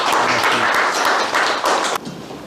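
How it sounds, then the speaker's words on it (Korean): Audience applause in a lecture hall as a professor emeritus is welcomed to a Confucian college class, dense steady clapping that stops abruptly near the end, leaving faint room noise. "큰 박수로 맞아주십시오."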